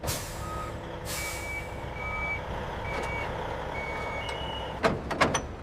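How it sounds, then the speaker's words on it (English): A truck backs into position in a factory yard, its reversing alarm beeping in steady evenly spaced pulses over engine rumble, followed near the end by several sharp hisses of air brakes. "Precision guides every truck into position for unloading."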